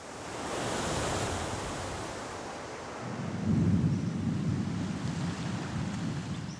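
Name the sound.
storm with thunder and surf hitting an island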